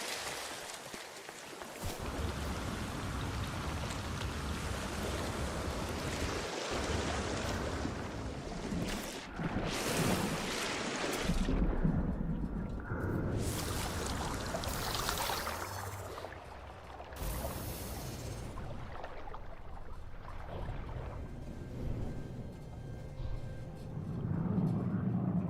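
A stormy sea in a video game: rain, wind and crashing waves make a steady, full roar of surf and gusting air that runs without a break, with no clear voices.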